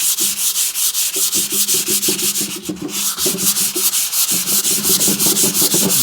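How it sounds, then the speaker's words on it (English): A wooden demilune table finish is rubbed freehand with the fingers and fine abrasive to knock down brush strokes, giving a steady, rhythmic scratchy rubbing of quick close strokes that continues without a break. "I'm going to do the remaining sanding just freehand with just my fingers."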